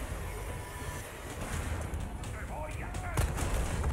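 Gunfire in the Resident Evil 4 demo, a few sharp game shots with a heavier burst near the end, set over a busy layer of in-game sound effects and ambience, fairly loud.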